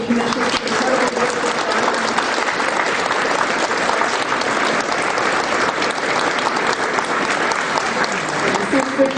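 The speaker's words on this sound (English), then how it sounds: "I would just like to give a round of applause to Benji Craig and his Energy Commission" Sustained, loud applause fills a town meeting hall, with many hands clapping steadily throughout and a voice briefly heard near the end.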